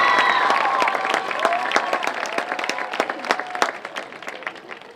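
A graduating class's audience at a middle college graduation ceremony breaks into sustained applause, dense clapping with a few cheers and crowd murmur, tapering gradually toward the end.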